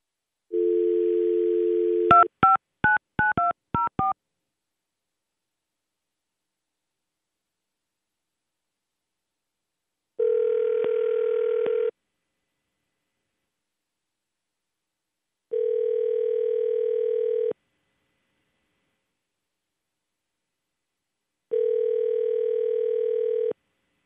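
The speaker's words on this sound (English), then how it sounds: "We're going to dial the number when she picks up" A landline telephone gives a steady dial tone, then a quick run of keypad dialing beeps, followed by three evenly spaced ringback tones separated by silence. No one speaks.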